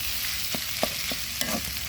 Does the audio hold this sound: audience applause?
no